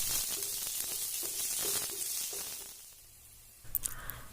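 A finely chopped large onion sautés in a hot pan for egg masala dosa, giving a steady close sizzle that fades, followed by a few brief clinks.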